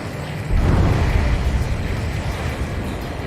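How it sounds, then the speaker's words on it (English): A deep, muffled underwater explosion in the game Ace Combat 7 swells up and rumbles on as a dense roar, heavy and close, slowly settling without fading fully away. "A huge explosion just went off underwater."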